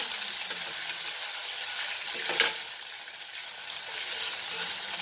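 Onion fries in hot oil in a pan for Goan beef roast, making a loud, steady close sizzle, with a clatter of stirring midway and then the frying carries on alone.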